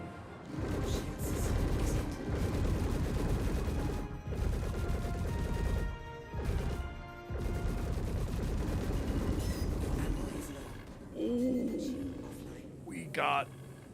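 Dense, sustained gunfire from ships on strafing runs in Star Citizen, rapid bursts roaring almost continuously with brief gaps, then thinning toward the end as other sounds come forward.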